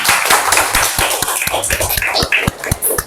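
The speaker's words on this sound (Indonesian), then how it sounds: "Kasih tepuk tangan." A short burst of clapping from a small group, uneven claps with some taps, fairly close in a busy room during a teacher training session.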